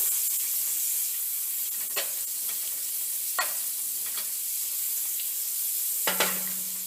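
Margarine, five tablespoons of it, sizzling in a frying pan: a steady high hiss runs throughout, with a few faint clicks and scrapes, fairly close and with no voices.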